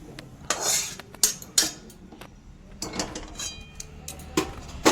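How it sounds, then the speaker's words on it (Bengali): Fried mixed vegetables for a navaratna curry being tipped from a pan onto a metal plate, giving a few sharp clinks and scrapes of metal on metal in bursts, close and fairly loud against a quiet kitchen background. "সবজিগুলো আমার ফ্রাই করা হয়েছে, একটু থালায় ঢেলে নিচ্ছি।"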